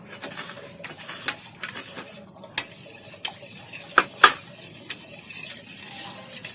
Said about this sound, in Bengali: এবার এটাকে আমি ভালো করে ফেটে নেব